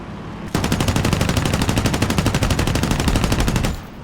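A Ki-43-II fighter in War Thunder fires its machine guns in one sustained burst of rapid, evenly spaced shots, loud and close, lasting about three seconds before cutting off.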